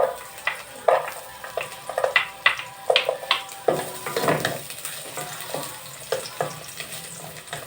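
Ginger and garlic sauté in a pan for tinolang manok: a soft frying sizzle broken by repeated clinks and scrapes of a spatula stirring, fairly close and without talk.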